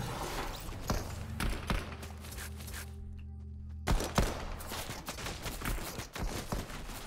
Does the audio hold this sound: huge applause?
no